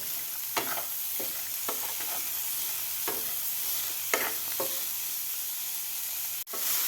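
Safflower leaf greens are stirred in a pan over a soft continuous sizzle, with a spoon scraping and tapping several times at an uneven pace and one clear knock near the end.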